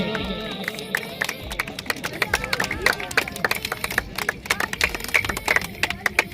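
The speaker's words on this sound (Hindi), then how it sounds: "एक बार जोरदार तालियां जी" Crowd clapping and applauding at an outdoor kabaddi match in Bhagwal, a dense steady patter of many hands with crowd babble underneath, fairly near and sustained throughout.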